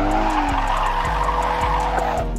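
A car drifting with its tires skidding in a continuous loud squeal over a steady engine drone, during beginner drifting practice.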